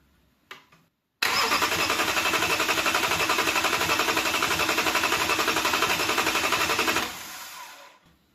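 An Audi Q7 4.2 TDI diesel after timing belt service, injection pump off, cranking over on the starter: a loud, even, rapidly pulsing churn lasting about six seconds before winding down, close by with no talking.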